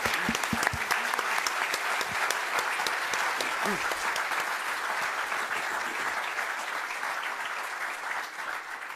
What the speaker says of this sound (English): let me invite the audience to join me in a round of applause for our three panelists